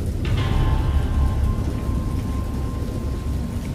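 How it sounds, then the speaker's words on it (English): A thunderstorm in the game Dagon: heavy, steady rain with a deep rolling peal of thunder near the start, the rumble filling the low end while the rain hisses on without pause. "I know that I heard peals of thunder and other tones which nature utters only in her wildest moods."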